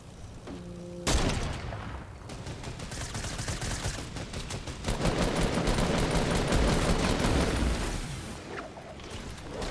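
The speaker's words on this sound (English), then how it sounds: "I just heard shots." Gunfire rattles through a Fortnite match after a short electronic chime, with sustained bursts of rapid shots and booms that swell and fade, loud and fairly close, with no voices.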